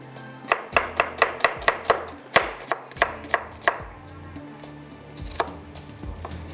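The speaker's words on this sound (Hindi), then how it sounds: "एक छोटी सी प्याज भी ले लेते हैं, ठीक है। इसको भी चॉप कर लेते हैं" A knife chops a small onion on a cutting board for a burger recipe, with about a dozen quick, crisp, evenly spaced strikes, then a pause before a few more scattered chops.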